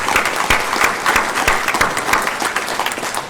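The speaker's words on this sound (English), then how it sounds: "we are giving you a big round of applause." A board meeting audience breaks into a loud round of applause, dense overlapping clapping that holds steady for a few seconds and begins to thin toward the end.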